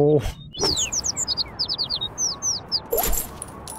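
Bird in the video game Little Kitty, Big City chirping a rapid series of short, high tweets over steady ambient background, with brief louder thumps at the start and near the end.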